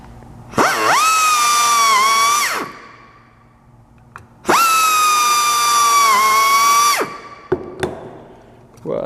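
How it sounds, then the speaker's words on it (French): A power drill bores holes through aircraft-style sheet metal panels held with clecos: two loud, whining bursts of about two seconds each, separated by a short pause, followed by a few faint clicks. "Je peux percer le reste de mes trous."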